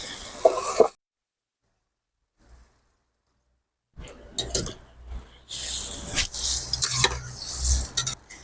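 Fried potatoes being stirred into a soybean masala with capsicum in a pan, heard as bursts of scraping and sizzling after a brief opening sizzle and a near-silent gap, growing busier and louder toward the end.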